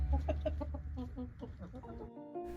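Chickens, a flock of roosters and hens raised from straight-run chicks, cluck in a steady run of short, repeated calls, fairly close and alone with no talk over them.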